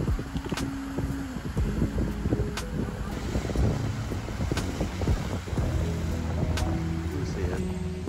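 Strong wind buffets the microphone outdoors in Gifu, Japan, in a steady low roar, with faint voices and clicks mixed underneath throughout.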